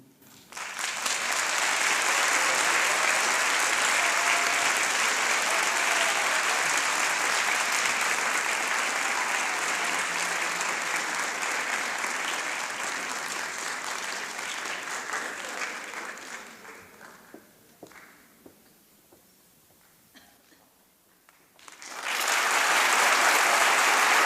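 An audience applauds warmly to welcome writer and professor Ariano Suassuna to a lecture: dense, steady clapping fills the room for about fifteen seconds, then thins out and fades before a final swell.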